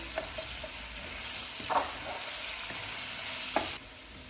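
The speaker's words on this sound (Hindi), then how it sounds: "इसमें अदरक और लहसुन का पेस्ट डालेंगे। इसको 30 सेकंड तक फ्राई करेंगे।" Ginger-garlic paste sizzles in a hot pan after onions have fried, a steady crackling hiss with a few brief stirring scrapes.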